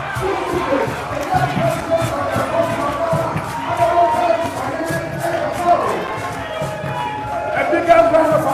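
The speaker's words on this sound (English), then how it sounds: "a big round of applause for him" A large crowd cheers and claps continuously, a dense loud roar of voices and applause with rhythmic bursts throughout.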